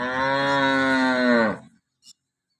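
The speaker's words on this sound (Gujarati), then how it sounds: "સાંજના સાત વાગી ગયા છે ગાય દોવાનું ચાલુ કરીએ છીએ" A cow in a farm shed lets out one long, loud, full-throated moo at evening milking time, then falls quiet, followed by a brief faint knock.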